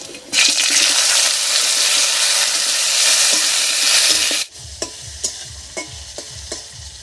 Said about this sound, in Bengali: টমেটো দিয়ে একটু নাড়িয়ে নিয়েছি